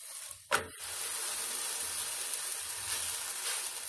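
Flatbread frying in butter in a pan, a sharp scrape of the flip followed by a steady close sizzle that continues without talking.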